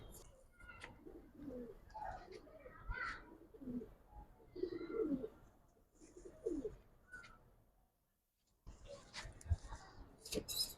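Giribaz and colored pigeons cooing nearby, soft repeated low coos and scattered calls, quiet, with a voice talking at times.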